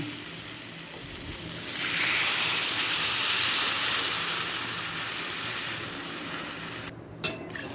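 Water poured into a pan of raw banana and potato curry frying in spices sets off a loud, broad steaming sizzle that swells then slowly settles, close and without talk, ending with a few clinks.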